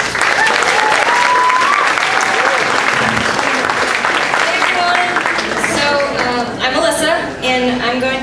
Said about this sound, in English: let's please give a warm cheer for Alyssa Garcia